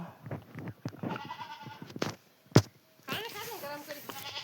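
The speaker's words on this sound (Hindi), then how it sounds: "दोस्तों 3 बकरी हो गई हमारे यहाँ।" Goats kept at a village home in India bleat several times, near and loud, with wavering cries close together. A voice talks between the bleats, and one sharp knock is heard.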